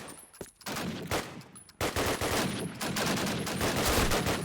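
Rapid bursts of automatic gunfire in the video game Call of Duty: United Offensive during a competitive match, loud and dense, with a short gap before a sustained volley. No voices.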